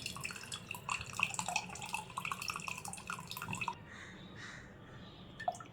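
Dissolved tamarind water is poured into a spinach curry, a soft close trickling and dripping of liquid that stops after a few seconds, leaving quiet kitchen background with a last small drip.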